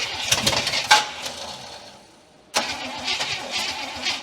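An abandoned 1967 Cadillac DeVille, unstarted for 40 years, cranks with a rough churning rhythm, falls quiet for about a second, then cranks again loudly and close up.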